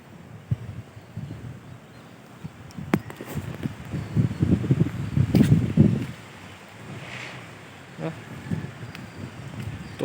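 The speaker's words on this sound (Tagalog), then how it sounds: "Lakas kasi yung hangin dito." Gusty wind buffets the microphone in rising and falling rumbles over an eggplant field, strongest in the middle, with faint rustling of plants between gusts.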